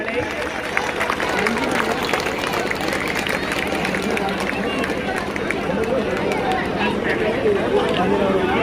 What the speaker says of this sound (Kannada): ಚಪ್ಪಾಳೆ ಚಪ್ಪಾಳೆ ಚಪ್ಪಾಳೆ